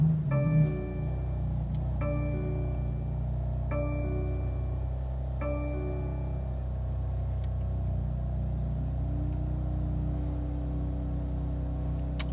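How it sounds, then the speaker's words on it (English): A BMW F80 engine starts up and settles into a steady idle heard from inside the car, with a few chimes sounding early on over the constant rumble. "get in the car and give it a start up"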